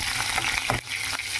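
Green chillies hit hot tempering oil for tomato dal, giving a close, dense crackling sizzle with brief sharp pops and stirring scrapes.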